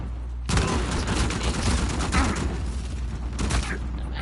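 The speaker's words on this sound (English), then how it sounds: "Grenade outgoing." Uncharted 4 multiplayer combat: a grenade blast and dense gunfire burst in after a short lull, sustained loud crackling volleys continuing throughout with brief voices underneath.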